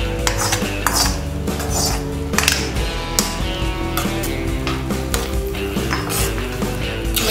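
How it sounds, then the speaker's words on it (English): Cheese corn sauce canape filling mixed in a bowl, with a spoon scraping and clinking steadily against the sides over continuous background music. "Mix the filling for the final mixture."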